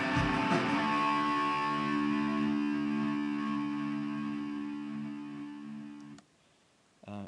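A music track in GarageBand with its volume automated down for a fade-out: a sustained, effects-laden guitar chord rings and slowly decays over about six seconds, cuts to near silence, then briefly resumes.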